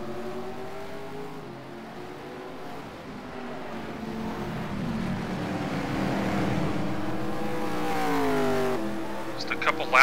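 Race car engines drone and rise in pitch down the front straight in a racing game, several cars running together with steady loud revving under speech.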